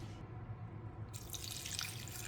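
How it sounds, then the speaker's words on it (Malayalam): Water poured from a cup into a cooking pot holding green chillies and drumsticks for a Kerala prawn curry, a steady close splashing stream that brightens and grows louder halfway through. "1 കപ്പ് വെള്ളമാണ് ഒഴിക്കുന്നത്."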